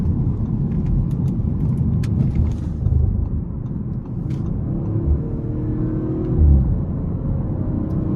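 A 2022 Audi RS5 Sportback with a 2.9-litre twin-turbo V6 accelerates hard on rough pavement, a loud, steady cabin rumble of engine and tire roar that swells briefly near the end.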